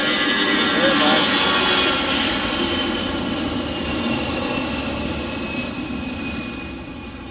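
An Airbus jet at Detroit Metro Wayne airport roars loudly nearby, a sustained whining jet engine rumble that slowly fades as the aircraft passes.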